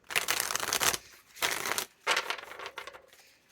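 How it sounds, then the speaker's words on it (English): Tarot cards are shuffled by hand, three close, loud riffling bursts separated by short pauses, with no voice over them. "I'm going to shuffle 3 times."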